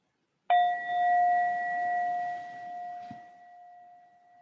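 A meditation bell is struck once and rings out with a clear sustained tone that slowly decays, a faint knock partway through, no talking.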